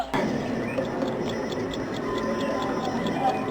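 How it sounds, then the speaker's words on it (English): An alarm clock ticks steadily in a quick, even rhythm, close and fairly loud over a constant background hiss. "Yes, it's an alarm clock."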